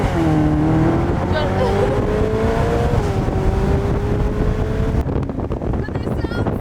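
A high-pitched Ferrari California engine drones and rises in pitch as it accelerates past, loud at first, then cut off abruptly.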